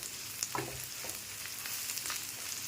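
Garlic and chilli sautéing with salt in a pan for mung dal kachori filling, a steady close sizzle with occasional scraping stirs and small crackles, no voices.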